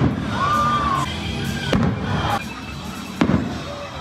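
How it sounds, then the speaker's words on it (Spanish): Fireworks at a stadium: whistling rockets rise, then two sharp bangs go off a couple of seconds apart, with a distant crowd murmuring and cheering underneath throughout. "Ahora vamos a ver los fuegos artificiales."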